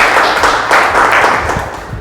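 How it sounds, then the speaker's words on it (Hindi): An audience at a health talk claps for a guest speaker, a dense, loud wash of many hands that swells and eases over a couple of seconds. "एक बार हम चाहेंगे सब बोधाचार्य सर के लिए बहुत बहुत ताली होना चाहिए"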